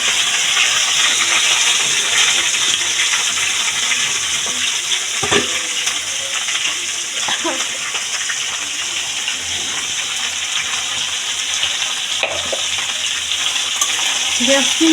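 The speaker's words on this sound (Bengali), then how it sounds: "হালকা গ্যাস, এই গ্যাসের বেগুন ভাজলাম" Eggplant frying in hot oil over a low gas flame, a steady close hiss and sizzle running throughout, with a few faint clinks and stirring noises on top.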